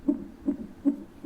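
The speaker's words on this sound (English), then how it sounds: "that's the heartbeat mode" Heartbeat mode of a PICTEK white noise machine, a soft, muffled low thump repeating steadily about every 0.4 seconds, close and alone with no other sound.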